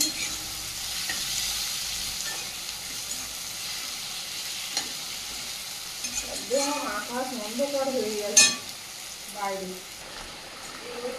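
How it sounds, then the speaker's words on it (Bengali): Meat frying in a pan with a continuous hiss, stirred now and then with soft scrapes, while a voice talks briefly in the second half and a sharp metallic clink stands out near the end. "এটাও বেশ ভালো করে ভেজে নেব"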